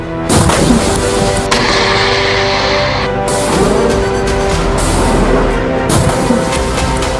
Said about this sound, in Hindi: हिजबुल्लाह एक के बाद एक कई मिसाइल फायर करता है।